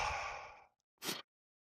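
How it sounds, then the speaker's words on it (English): A quick, deep breath out, a single breathy rush of air fading over about half a second, followed by a short softer puff, close and quiet. "see how quickly the exhalation was? It's too fast."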